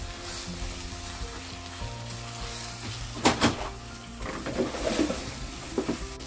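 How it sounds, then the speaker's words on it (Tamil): Steady sizzling of eggplant and masala in a hot pan with a few scraping, clattering stirs of a utensil against the metal midway and near the end. "இந்த கத்திரிக்காயையும் இந்த மசாலா பொருட்களோடு சேர்கிற மாதிரி நல்லா ஒருக்கா கலந்து விட போகிறேன்"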